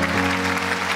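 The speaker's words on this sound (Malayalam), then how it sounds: "വലിയൊരു കൈയടി കൊടുക്കാം" An audience claps at an award show, giving a short, dense, even burst of close applause with no voices over it.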